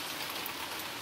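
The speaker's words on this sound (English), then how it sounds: "It's starting to pour the rain here." Heavy pouring rain falling outdoors, a steady, soft hiss of drops on surfaces, faint and continuous with no voices.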